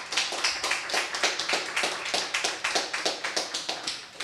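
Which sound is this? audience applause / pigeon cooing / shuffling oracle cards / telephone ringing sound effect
audience applause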